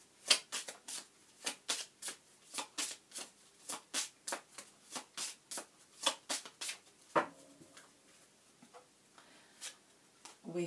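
Lenormand cards are shuffled by hand in a steady series of crisp riffling bursts, close and clear, with no voices.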